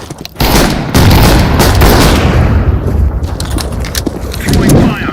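A grenade goes off in the video game Counter-Strike 2: a loud, close burst of booms mixed with gunfire, carrying on as a dense rumble with a second swell near the end.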